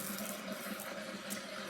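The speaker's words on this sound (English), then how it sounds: "I've got the sound of a river here." A river of water rushes steadily with a continuous broad hiss, even and unbroken, close and moderately loud with no voices.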